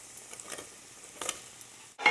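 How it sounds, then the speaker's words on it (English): Flour and butter are whisked together in a soup pot for broccoli cheese soup, giving quiet scraping strokes over a faint sizzle. A sharper, louder noise cuts in at the very end. "we're going to just start whisking the flour and butter together for about 3 to 5 minutes until it's thickened"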